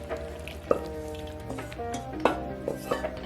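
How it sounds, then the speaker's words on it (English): Pasta being stirred into a creamy green vegetable sauce in a pan, with a soft, steady sizzle under scattered utensil clinks and a few sharper scrapes against the pot. "Mix the pasta with the sauce"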